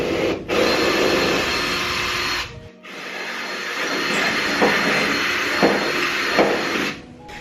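A Dremel grinds and smooths metal plates on a 1968 Ford Mustang Fastback, producing a loud, continuous high-pitched whine with a brief drop partway through and small scraping bursts as it bites the metal.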